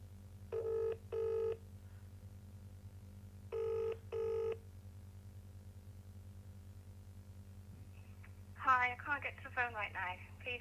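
A telephone rings through the handset during an outgoing call, two paired electronic ring bursts a few seconds apart over a low line hum, followed by a voice answering near the end.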